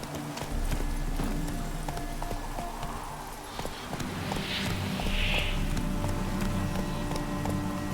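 Roach, the horse in The Witcher 3: Hearts of Stone, gallops with steady rhythmic clip-clop hoofbeats, close and continuous over a low game ambience and wind.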